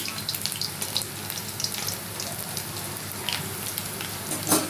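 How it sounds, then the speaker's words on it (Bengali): Potatoes frying in oil, cooked without salt or turmeric, give a soft, steady bubbling crackle with scattered pops that stays fairly faint and even throughout, with no one talking. "এটা আমি একটুখানি করছি এই তেলে ভেজে নিচ্ছি"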